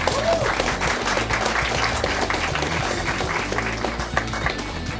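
An audience at a presidential campaign event applauds, a dense, steady wash of clapping that holds at an even loudness throughout.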